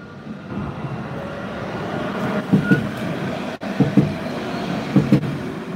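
Nottingham Express Transit tram 228 at a stop, a steady low rumble with a few short paired clunks, rail-like, recurring at intervals, heard from nearby.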